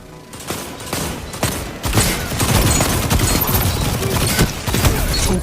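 Duke auto rifle firing in Destiny 2, a steady stream of rapid shots over dense game effects that begins with scattered bursts and settles into sustained fire for the rest of the stretch.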